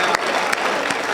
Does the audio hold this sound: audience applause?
yes